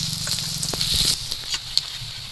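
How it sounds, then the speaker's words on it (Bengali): Onions chopped fine and frying in oil until browned, a steady close hiss and sizzle with light crackling pops. "পেঁয়াজটা একটু লাল করে ভাজবো"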